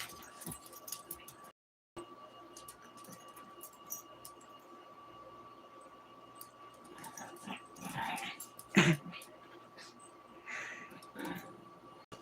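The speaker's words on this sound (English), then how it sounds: "Can you hear her growling at him?" A dog growls softly and intermittently while playing with another, more tolerant dog indoors, with faint whimpers and a few clinks in a quiet room.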